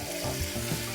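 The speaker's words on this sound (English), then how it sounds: "We got the chicken breast sauteing" Chicken breast sautés in a hot pan with a steady, close sizzle and crackle, the frying continuous throughout with no talk.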